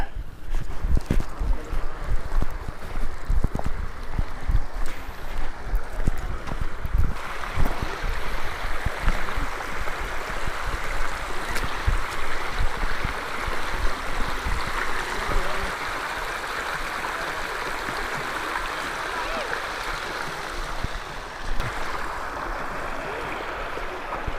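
Creek water at Dinosaur Valley State Park in Texas flows in a steady broadband rush and babble, close and continuous, with some knocking and handling noise early on.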